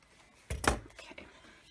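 Scissors snip through paper for a scrapbook page in a few quick, close cuts, with one sharp crisp snip and a fainter cut after it, set against quiet room sound.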